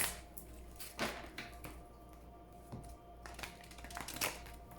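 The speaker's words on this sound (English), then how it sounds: "Please think of your question as I shuffle the cards." A deck of oracle cards is shuffled by hand, giving quiet, close riffling and soft slapping bursts at an uneven pace with short pauses between them.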